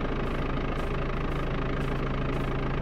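A wheel loader's engine idles steadily in a farming video game, a continuous low mechanical drone with a faint knocking pulse that stays even from start to finish, with no talk over it.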